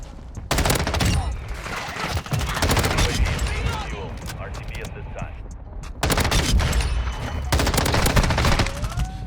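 Rapid automatic fire from an M13B rifle in Modern Warfare 2, loud, close bursts of dense gunshots that fill most of the clip, broken by a few brief pauses, with a voice talking underneath.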